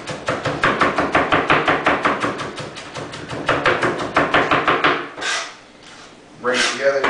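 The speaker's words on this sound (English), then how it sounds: "We're going to rock up and down and go back and forth." A knife rocks quickly across a cutting board as food is minced in a steady run of rhythmic chopping taps. The chopping briefly pauses as things are shifted, then resumes.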